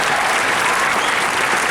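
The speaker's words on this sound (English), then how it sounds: "Please give yourselves a round of applause." Loud, dense applause from a large Comic Con crowd, a continuous roar of clapping hands that fills the space evenly from start to finish.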